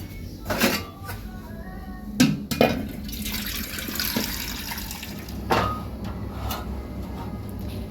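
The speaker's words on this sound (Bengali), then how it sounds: "গরম জল বসিয়ে দেবো" Water is set on to heat in a kitchen: splashing and running water with clinks and knocks of a pot or vessel in irregular bursts, moderately close, with no talking.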